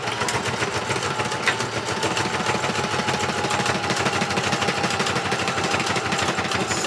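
A sewing machine runs a zigzag stitch through a plastic pocket for a junk journal, giving a steady, rapid mechanical chatter that stays close and continuous throughout without talking.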